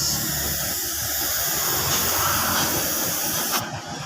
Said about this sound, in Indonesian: ini kita langsung semprot saja cat warna merahnya